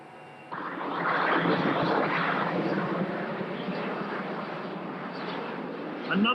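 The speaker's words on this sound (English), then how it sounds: "Another demonstration of this aircraft's great versatility, as Ray Coates comes in for an RVL" A fixed-wing aircraft performing at an air show roars past as a broad, sustained, fairly loud drone that swells and then holds steady.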